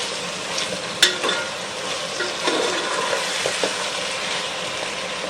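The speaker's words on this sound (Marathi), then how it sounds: "मस्तपैकी असं परतून घ्यायचं आहे" Jackfruit pieces sautéed and stirred in a pan for a Konkan-style vegetable dish, giving a steady sizzle with one sharp utensil knock early and a few softer scrapes, no voices.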